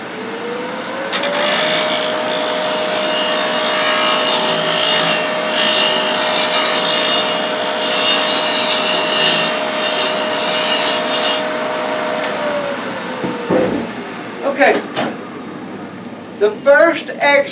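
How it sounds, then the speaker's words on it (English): A spindle roughing gouge cuts wood turning on a lathe, a loud continuous rough scraping over the steady hum of the motor, which winds down near the end, with a voice heard briefly. "I'm going to hit it again with the spindle roughing gouge."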